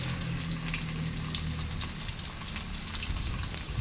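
Fish sizzles steadily as it shallow-fries in a pan of hot oil, a continuous close crackle and spatter with a low hum beneath, holding level throughout with no voices.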